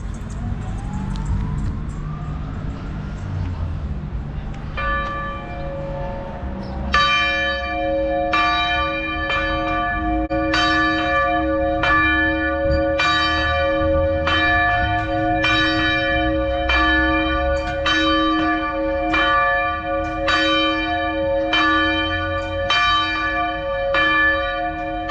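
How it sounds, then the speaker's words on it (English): A church bell rings before a wedding in Robertson, South Africa, with steady repeated strikes that start after a few seconds of quiet street ambience and carry on loudly, each ring leaving a long resonant hum. "There's going to be a wedding soon and the bell will be"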